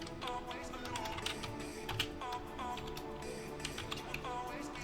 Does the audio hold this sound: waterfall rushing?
no